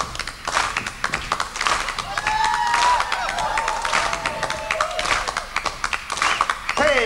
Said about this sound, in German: Ihr klatscht schön weiter auf 2 und 4